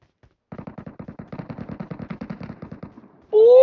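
Rapid bursts of automatic gunfire from the mobile battle royale game PUBG Metro Royale, a steady rattling run of shots lasting a few seconds, loud and close, ending as a sharp electronic tone cuts in.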